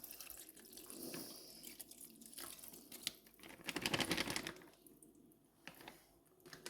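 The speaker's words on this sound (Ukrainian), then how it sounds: "перемішала і заливаю капусту молоком" Milk pours over a pan of sauerkraut and cooked porridge for a traditional Ukrainian wedding cabbage dish, a quiet splashing, gurgling trickle that swells midway and fades, heard close with no voices.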